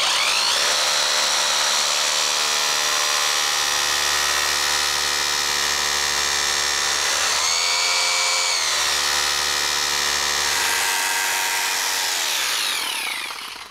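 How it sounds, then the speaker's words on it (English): A power drill with a masonry bit bores through a wooden bottom plate into a concrete slab, a loud sustained whine with a brief pitch dip midway, running close and unbroken before trailing off at the end. "Put the bit right in the middle of the bottom plate and then drill through the board into the"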